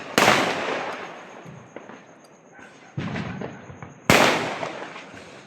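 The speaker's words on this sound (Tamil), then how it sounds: "மக்கள் வெடியை போட்டு உற்சாகமாக கொண்டாடி கொண்டிருக்கிறார்கள்" Firecrackers and fireworks burst during a New Year celebration, with two sharp, loud bangs about four seconds apart and smaller crackles and pops between them.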